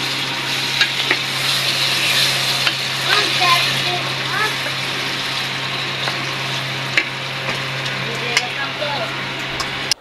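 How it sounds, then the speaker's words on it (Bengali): Spices and small lentil dumplings sauté in a pan with a steady, moderate sizzle and occasional stirring clinks. A low mains hum runs underneath, with faint background voices. "আম্মু তো বড়িগুলো সহকারে মশলা কষে নিল"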